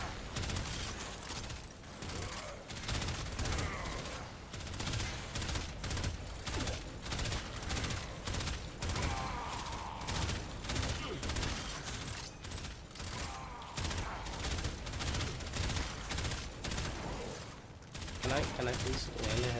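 Rapid automatic gunfire from the video game Warframe rattles continuously in dense bursts with mechanical clatter, loud and steady throughout, with a voice talking underneath.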